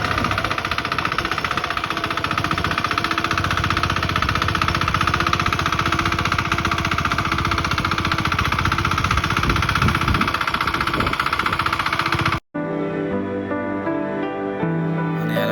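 A tractor engine runs steadily and loudly in a rice paddy field being puddled for planting, a continuous chugging drone that cuts off abruptly near the end, giving way to quieter tonal sound.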